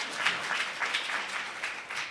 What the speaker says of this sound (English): you should give yourselves a huge round of applause